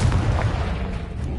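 A Confringo blasting spell from the Hogwarts Legacy game goes off in a loud, dense, low-heavy burst of explosive rumble that fills the whole moment with no voices.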